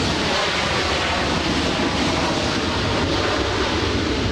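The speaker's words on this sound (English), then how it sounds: "a lot of plane sounds there, a lot of plane sounds" Steady broadband roar of airplanes around Los Angeles LAX airport, a continuous rushing jet-engine wash with wind-like noise, heard alone without talking.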